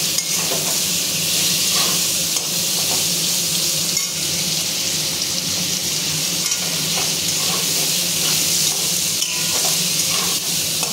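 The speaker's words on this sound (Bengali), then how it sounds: "নাড়তে হবে, আর চিংড়ি মাছটা একটু ভাজা হয়" Shrimp fry briefly in hot oil in a pan for a banana-flower dish, giving a dense, continuous sizzle with repeated scraping and clinking of the stirring spoon close up.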